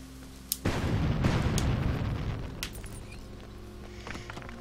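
A game explosion in LEGO Pirates of the Caribbean bursts out with a sharp pop, then a loud, broad rumbling blast that slowly fades into a low ringing tail with scattered small crackles.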